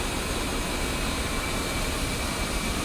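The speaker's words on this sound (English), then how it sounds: "we're going to wait until the right engine spools completely" An A-10C's jet engine spools up in the DCS flight simulator, a steady, loud broadband roar with a faint high whine holding level throughout, no voices.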